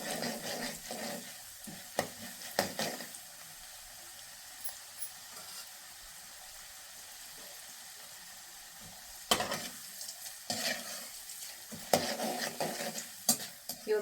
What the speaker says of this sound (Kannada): ಅದೇ ಎಣ್ಣೆಗೆ ಸಾಸಿವೆ ಮತ್ತು ಜೀರಿಗೆ ಹಾಕ್ಕೊತಾ ಇದ್ದೀನಿ. ಒಂದು ಚಿಟಪಟ ಅಂತ ಇದೆ.